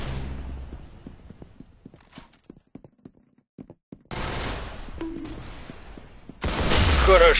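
Gunfire in the Arsenal shooter game: after sparse quiet clicks and taps, two loud rapid bursts of shots break out, the second harsher and louder.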